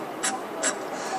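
A beatboxer imitates a hi-hat with the mouth: two short, crisp, hissy ticks with faint breath noise around them, fairly quiet and close.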